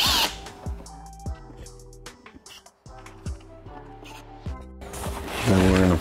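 Power drill on a Pro Team Supercoach 10 backpack vacuum, backing out screws in bursts of whirring with short pauses between, close and fairly loud, no talking.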